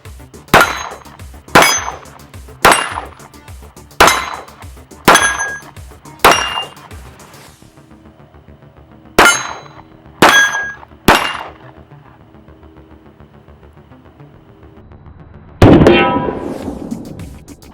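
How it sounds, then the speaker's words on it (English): A CZ 75 SP01 pistol fires at steel targets: a rhythmic string of six sharp shots, a pause, then three more, each followed by a ringing clang. A final burst ends the sequence, loud and close with no speech. "we're going to shoot some steel here with our CZ, see how we do"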